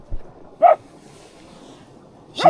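Bella, a dog at a wild camp, lets out two sharp single barks about two seconds apart over quiet background hiss, moderately close, with no talk.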